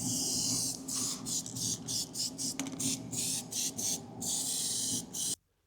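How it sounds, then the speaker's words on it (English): An aerosol spray paint can sprays onto a Toyota differential in repeated bursts, its close hiss broken by brief pauses between passes, followed by a final longer spray that cuts off abruptly. "Doing a little spray paint makeover."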